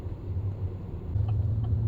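A Chevrolet Camaro SS muscle car cruises on a motorway at highway speed, its exhaust giving a low, steady rumble under road and wind noise.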